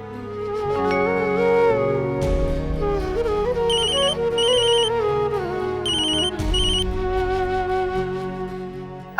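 Rings from a phone while a call is being placed in the Hindi TV drama Yeh Rishta Kya Kehlata Hai, heard as a repeating tonal ringtone with bright chiming bursts over a background music bed, fairly loud.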